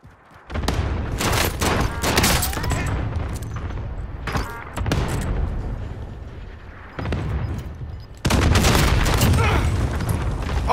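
Called-in fire strike explosions in Call of Duty: Modern Warfare, a loud series of heavy blasts and rumbling booms mixed with gunfire, coming in several waves and growing strongest near the end.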